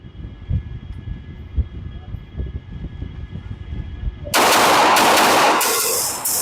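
Gunfire at a target on a shooting range: a few scattered sharp reports under people talking, then a loud, dense burst of rapid shots that fills the last couple of seconds.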